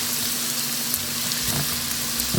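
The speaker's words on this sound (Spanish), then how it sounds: "Una vez el aceite está caliente, vamos a estar agregando la cebolla, chile amarillo, chile verde" Onion with yellow and green chilies frying in hot oil over medium heat, a dense, even hiss of sizzling that runs unbroken and close, with no talking.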